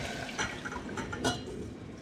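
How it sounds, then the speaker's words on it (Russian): Cream is poured over meatballs in a pan, giving a soft, close liquid splashing and glugging with a couple of louder gushes, quiet overall and with no voices. "Выливаем сливки."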